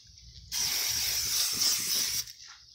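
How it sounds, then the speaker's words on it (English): A spray bottle hisses mite treatment over a snake's bin in one continuous burst of about a second and a half, loud and close, with quiet room tone before and after. "we're going back to the bin, and we want to kind of spray this all over it"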